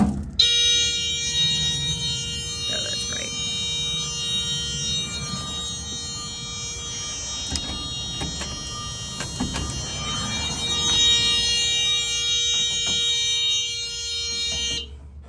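A loud, continuous electronic alarm tone from a bus emergency door sounds throughout, with clicks and clunks of the door being opened and latched beneath it.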